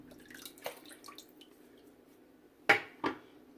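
Water drips from a German 37 slant shaving razor and a synthetic knot shaving brush, a few light splashes and drops, then two sharper, louder drips near the end in a quiet room.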